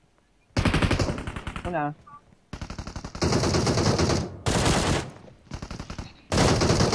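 Automatic gunfire inside a house in PUBG Mobile rattles out in loud, close bursts of rapid shots separated by short pauses, with someone talking between the volleys.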